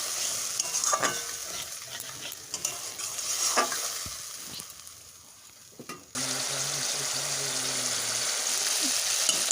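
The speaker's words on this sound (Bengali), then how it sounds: "কষানোর সময় অল্প করে জল দিয়ে দিচ্ছি নাহলে মশলাটা পুড়ে যাবে" A spice paste with chilli powder for a silver carp fish curry is stir-fried in a pan with a splash of water. Scraping stirs come over a soft sizzle, then a louder, steady frying hiss takes over.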